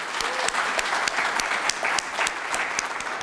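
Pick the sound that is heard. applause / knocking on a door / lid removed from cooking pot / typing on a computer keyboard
applause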